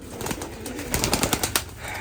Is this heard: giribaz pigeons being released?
yes